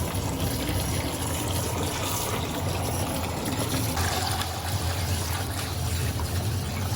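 Water runs steadily from a tap into the ducks' water container, a continuous close rushing and splashing fill with no talk.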